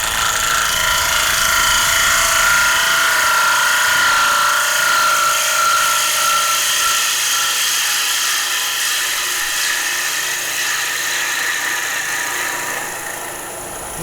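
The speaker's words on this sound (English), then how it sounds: "we use our straight grind to do our finishing cuts" A wood lathe spins a square-edged bowl while a straight-ground gouge takes a gentle finishing cut, giving a steady, loud whirring hiss that holds for the whole stretch and eases slightly at the end.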